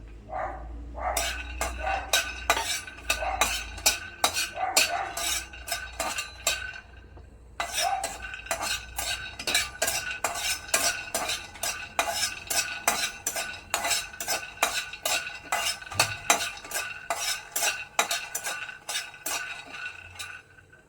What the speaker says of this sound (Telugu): ఈరోజు మన బీరకాయ పచ్చడి కోసం కొన్ని పల్లీలను వేయించుకుంటున్నానండి